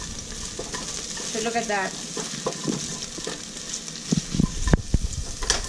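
Green onions fry in a pan over medium heat, a steady broad sizzle with a few stirring scrapes and clatters near the end, and a short spoken remark partway through.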